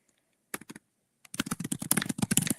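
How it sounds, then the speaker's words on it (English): Computer keyboard typing in short bursts, a brief flurry of keystrokes then a longer, denser run of clattering taps, close and fairly quiet with no talking. "Sorry that you are listening to me typing."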